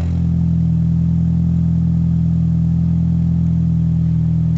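A 2019 Ford Fiesta SE idles on its stock exhaust with a steady, close, low droning hum that holds evenly throughout, with no revving.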